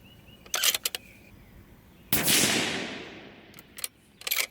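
Rifle shots from a 22 Creedmoor firing 75gr Berger loads over 39.1 grains of Hodgdon 4831 short cut, heard as a few sharp cracks followed by one loud, near blast with a long decaying roar, then more brief bangs.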